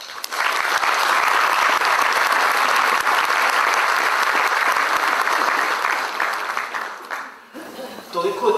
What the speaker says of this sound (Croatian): Ja od srca vas sad pozivam veliki aplauz za ovaj ogroman uspjeh